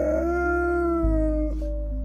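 A dog howls in a long, sustained, wavering tone lasting the full two seconds, loud and close, with the pitch dipping and shifting slightly toward the end.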